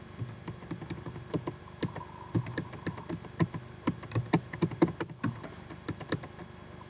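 Fingers tap away at a computer keyboard in quick, irregular bursts of crisp clicks, close and fairly quiet, with no voices.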